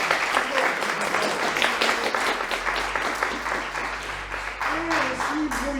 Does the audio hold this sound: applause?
yes